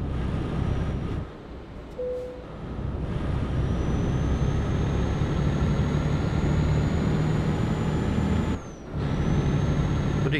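A truck's engine in Euro Truck Simulator 2 drones loudly and steadily with a faint rising whine. It cuts out twice in brief dips that may be braking, and there is no talk.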